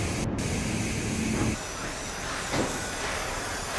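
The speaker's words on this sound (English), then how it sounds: "the worker manually sprays a protective sealant on the selected areas and joints" A worker manually sprays protective sealant onto the joints of a raised Mercedes-Benz W124 body in a 1980s paint shop, a steady hiss over factory noise that drops and resumes in short bursts.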